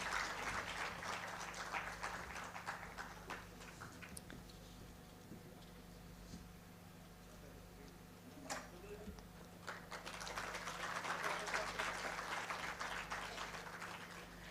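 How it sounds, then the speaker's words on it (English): Steady applause from a crowd at an architecture and interior design awards ceremony in Goa, heard at a distance with a low hum beneath, swelling again near the end. "A big round of applause, please."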